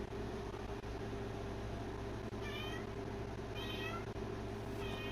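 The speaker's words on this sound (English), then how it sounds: "There seems to be a cat in the commentary box." A cat meowing in a baseball commentary box, just outside the door: three brief, faint meows spaced about a second apart over a steady, loud background hum.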